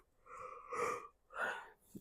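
A person yawning in the middle of the day, with two drawn-out breathy, voiced swells and a short breath at the end, close and fairly quiet.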